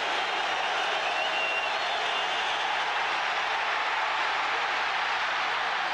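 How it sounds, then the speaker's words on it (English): A steady, distant roar from a packed NFL stadium crowd at a 1989 Bengals–Bears game on third down, a continuous even wash of noise with no talk over it. "The crowd trying to make it tough."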